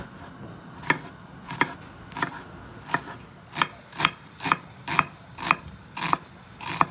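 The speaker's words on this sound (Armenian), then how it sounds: "Իսկ ես այստեղ կմանրացնեմ սոխը, մեկ խոշոր կամ երկու միջին սոխ եմ վերցնում եւ մանրացնում եմ" An onion chopped with a knife, a dozen crisp close strikes, slow and irregular at first, then settling into a faster, steady rhythm, with no voices.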